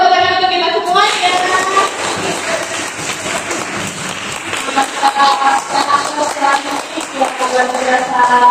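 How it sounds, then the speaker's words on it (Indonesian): Children in a primary school classroom clap together, a dense rattle of applause that carries on under a presenter's lively talk. "Boleh tepuk tangan untuk kita semuanya."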